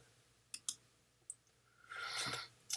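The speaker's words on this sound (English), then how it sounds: "So if I click on that" Computer mouse clicks, a few short sharp taps spaced apart, close and quiet, followed by a brief soft rustle.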